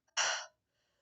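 A voice imitates heavy panicked breathing with a single sharp, breathy gasp, close and brief, followed by silence.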